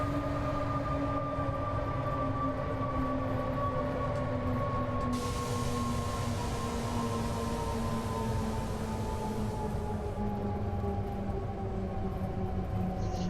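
Steady drone of a BR232 Ludmilla diesel locomotive in Train Simulator 2015 on the Munich–Augsburg route, with sustained engine tones that slowly drift downward in pitch and a hum of rolling noise beneath.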